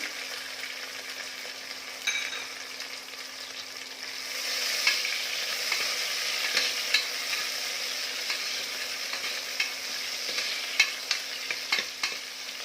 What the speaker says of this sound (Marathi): आता यामध्ये टोमॅटो घालते.